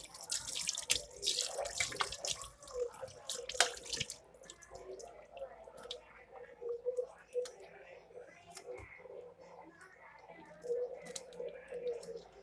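Tap water runs and splashes into a sink while fish is cleaned, loud and choppy at first, then settling into a softer trickle with scattered drips and brief clatter.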